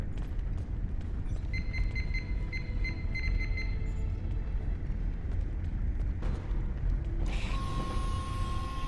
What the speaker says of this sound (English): Inquisitor, if you would do the honors and open the door.